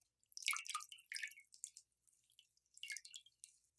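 Cold tap water drips and splashes in quick uneven bursts while a clay face mask is being rinsed off, close and fairly soft, with brief pauses between the spatters.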